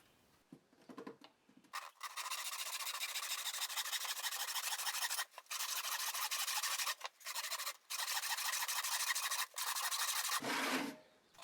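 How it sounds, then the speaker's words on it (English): Hand ripsaw cutting a wooden mallet handle blank from a board on a ripsaw stool, rapid rasping strokes in long close bursts broken by short pauses. "Next we can take the board over to the ripsaw stool to cut out the blank."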